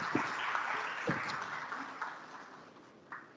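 Audience applause at a university academic lecture, a moderate wash of clapping from a crowd in a hall, steady and then slowly fading, with a few sharper knocks.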